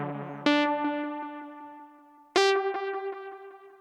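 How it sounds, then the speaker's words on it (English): Two struck tones each ring out into rapid repeating echoes that trail off in a rhythmic, fading series from a multi-head tape echo effect at slower rate and higher intensity, with less reverb. "Let's do some multi-head sounds."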